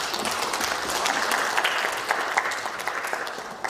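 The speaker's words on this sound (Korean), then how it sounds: "다시 박수 한번 보내드립니다." Crowd applause fills a People Power Party political rally in Korea, a dense wash of many hands clapping steadily at moderate volume, then gradually thinning toward the end, with no speech over it.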